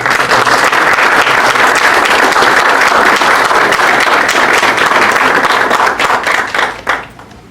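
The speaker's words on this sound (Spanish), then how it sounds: "un aplauso para nuestro invitado" Steady audience applause for a guest speaker at the NEO 2024 conference on bio-inspired metaheuristics, loud and dense clapping that holds evenly and then tapers off over the last second or so.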